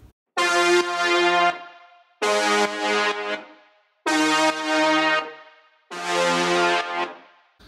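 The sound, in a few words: weird synth lead sound made of two saw-wave layers in Serum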